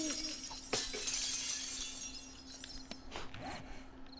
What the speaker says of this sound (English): The glass broke my stone axe.